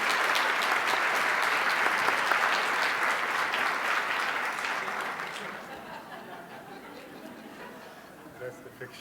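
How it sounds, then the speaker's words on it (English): Sustained applause from a conference audience at a plenary session in a hall, a steady, dense clapping that holds for several seconds, then thins and fades out near the end. "So let's have a little round of applause for them."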